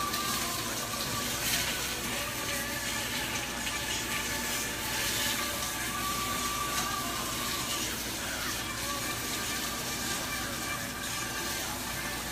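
Water pouring out of a pot of cooked asparagus while draining, a steady splashing gush running throughout at moderate level, alone without talk.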